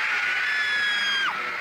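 A dense crowd of fans screams continuously at a 1960s concert, a loud, sustained high-pitched wall of shrieking with a few piercing voices standing out, dropping off slightly near the end.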